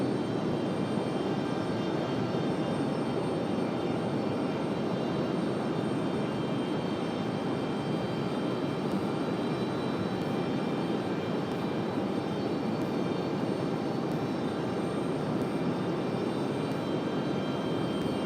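A jet airliner on its takeoff run from runway 23 right at Raleigh Durham International Airport, a steady broad engine roar heard from a distance and carrying on for the whole stretch.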